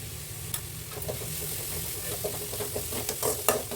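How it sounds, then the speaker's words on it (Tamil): Steady frying sizzle of onions and curry leaves sautéing, with soft stirring scrapes and occasional clinks of a utensil against the pan, continuous and close. "வெங்காயம் வெங்காயம் கருவேப்பிலை போட்டு நம்ம நல்லா வணக்கிடணும்"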